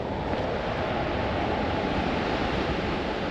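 The Lower Falls of Yellowstone roar in a broad, constant rush of falling water, loud and steady with wind noise mixed in and no speech.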